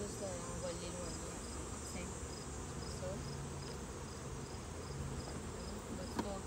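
A dense, continuous insect buzz, like many bees swarming close around a hive, steady and unbroken for the whole stretch.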